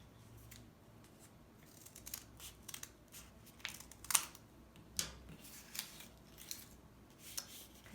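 Scissors snip through a folded paper snowflake in a series of crisp, close cuts spaced about half a second to a second apart, quiet and alone.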